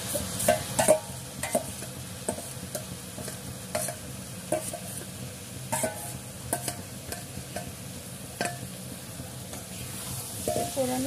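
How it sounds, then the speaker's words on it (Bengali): Grated mankochu taro, added to onion, garlic and chilli, fries in a pan while a spatula stirs and scrapes it repeatedly, giving irregular clinks and scrapes over a steady, close sizzle. "পোড়ানো কচু কোড়াটা ঢেলে সমান তলে নাড়তে থাকতে হবে।"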